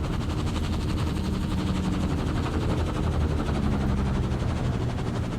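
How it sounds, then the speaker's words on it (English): A helicopter in the video game Firewatch gives a steady, loud rotor thumping with a continuous engine drone that holds for the whole stretch without a break. "Where is the helicopter? I hear it, but I don't see it."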